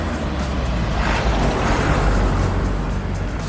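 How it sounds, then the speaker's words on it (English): A school bus passing on a road, a loud broadband rumble and wash of engine and tire noise close by, swelling slightly mid-pass with no talk over it. "Oh, it's a bus. It's a school bus. So I'm going to turn around here and wait for the bus to pass."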